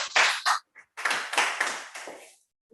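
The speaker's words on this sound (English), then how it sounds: "With a round of applause" A small group at a Toastmasters club meeting gives a quick round of applause for the general evaluator, in a few short, close bursts of clapping that stop and restart before fading out within about three seconds.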